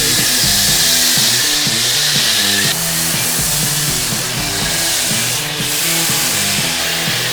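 A pressure washer sprays a car, a loud continuous hissing blast with a pulsing pump drone underneath, running steadily with small shifts in pitch as the spray moves.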